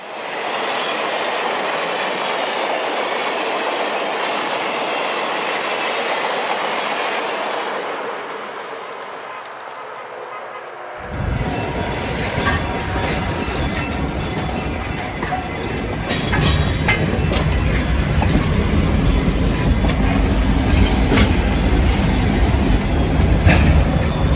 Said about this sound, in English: Train number 2 rolls through Orwood, approaching the large drawbridge across the Old River in the distance.